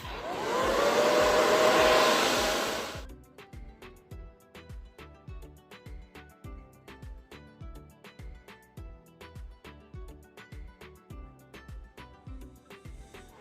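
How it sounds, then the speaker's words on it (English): A handheld blow dryer roars loudly and steadily for about three seconds while blow-drying hair with a paddle brush, then shuts off, leaving a rhythmic pulsing beat behind. "I'm going to put my blow dryer on, so obviously it's going to be very noisy"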